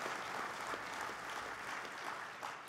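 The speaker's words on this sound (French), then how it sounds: "Je pense qu'on peut l'applaudir." Steady applause from an audience during an opposition speech in the Quebec legislature, a soft, even wash of many hands clapping that stays faint and distant throughout, with no voices over it.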